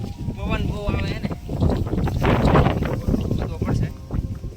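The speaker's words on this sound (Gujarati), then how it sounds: "પવન બહુ આવે છે ને" Strong wind buffets the microphone outdoors in a village field while a hole is dug, loud rumbling gusts that rise and fall, with people talking over them.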